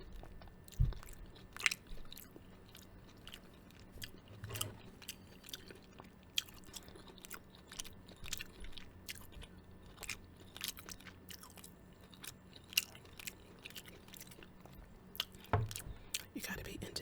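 Egg foo yung with egg and onion patties being bitten and chewed close to the mic, soft wet crunches and smacks in an irregular rhythm, quiet and intimate with faint whispery breaths between bites.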